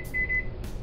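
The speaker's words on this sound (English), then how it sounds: "Now I'm gonna close it up and put it for 5 minutes" A single short electronic microwave oven beep, steady and fairly close, sounding as the timer is set to five minutes, with faint room noise around it.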